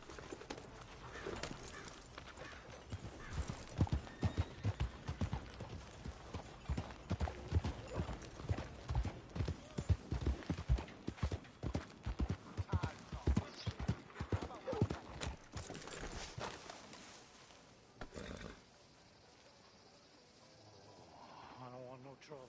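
Horse hooves clip-clop in a quick, steady rhythm, close and distinct, for most of the stretch before thinning out and stopping near the end.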